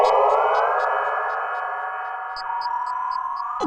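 An ambient synth atmospherics patch called Parasites from a synth design card sustains a bright, airy tone that slowly bends in pitch, with soft pulsing high blips, steady and fairly loud throughout.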